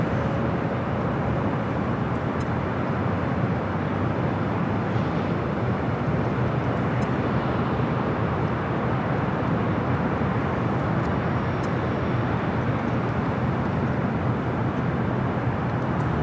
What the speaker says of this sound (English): Delta Airlines Flight 2551, Old Northwest A319.